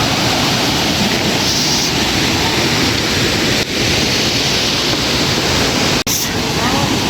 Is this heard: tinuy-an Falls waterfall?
yes